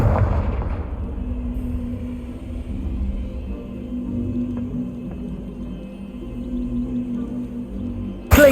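A Confringo fire spell blasts in Hogwarts Legacy with a heavy, close boom that fades into a long low rumble. A second sharp burst hits right at the end.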